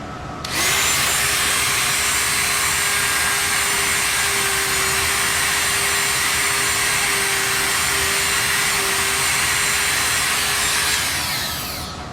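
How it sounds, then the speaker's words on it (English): A Dremel rotary tool buffs guitar frets with a steady, high-pitched whine that runs nearly unbroken for about ten seconds, loud and close, with no talk over it. "That's why I use the Dremel."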